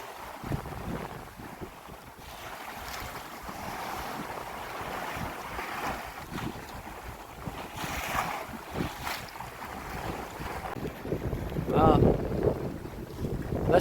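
Strong wind, blowing around 25 knots, roars across the microphone aboard a 14'6" gaff-rigged Post Boat cruising in Greece, with water rushing and splashing along the hull as she surfs, loud and continuous.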